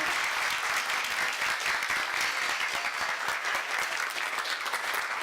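Steady audience applause at a Quality Parenting Louisiana gathering as a woman named Carol is welcomed up to lead the day's work, even dense clapping throughout the short stretch.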